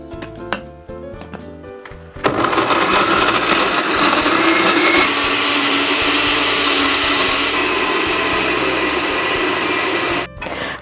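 Blender grinding red bird's eye chilies with a little water for a spicy-sweet fried peanut recipe: a few clicks, then the motor roars on, loud and steady for about eight seconds before cutting off.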